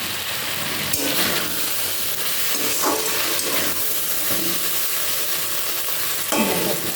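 Potatoes being stirred in a pan before it is covered, with a steady frying sizzle and hiss running throughout and a few brief scraping stir strokes, close and fairly loud, with no talking.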